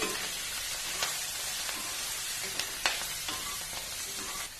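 Spring onion stalks with salt and chili powder are stirred in a hot pan, a constant sizzle broken by a few sharp clinks and scrapes of the spoon against the pan, heard up close with no talking.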